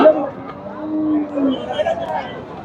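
Friesian bulls low at a Chandaikona cattle market in Sirajganj, Bangladesh, with a few drawn-out moos rising over the constant chatter of the crowd nearby.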